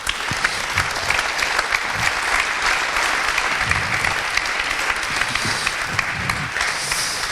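Audience applause in a hall at a mock-trial conference event, loud and continuous, a dense field of many hands clapping evenly for the full stretch with no speech over it.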